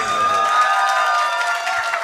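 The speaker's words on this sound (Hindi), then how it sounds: "एक दफा फिर से जरा तालियां आप सबकी होनी चाहिए" Audience applause at an Urdu poetry mushaira, a dense steady wash of many hands clapping that fills the whole short stretch with no voices over it.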